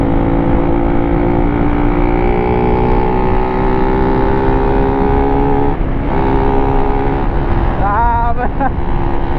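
Motorcycle engine roaring steadily on a friendly group ride toward a beach, a loud continuous drone with a brief dip and some revving near the end.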